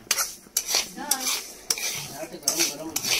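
A cashew and almond chikki mixture with sugar fries in oil in a kadhai, with loud repeated scraping strokes of a spatula against the metal over a continuous crackling sizzle.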